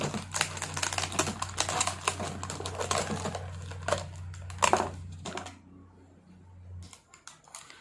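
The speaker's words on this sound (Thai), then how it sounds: "ก็จะใช้ขวดโออิชินะครับในการทำนะครับ เราก็จะตัดครึ่งขวดเลย" Dense, rapid crunching and snipping as an Oishi plastic bottle is cut in half, close and busy for several seconds before thinning to a few scattered clicks.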